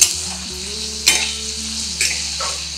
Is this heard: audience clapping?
no